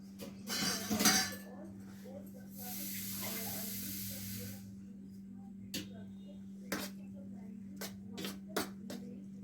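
A spoon clinks against a plate and pot while hot khichuri is served, with several sharp, separate metallic taps after a brief rushing hiss, all over a low steady hum.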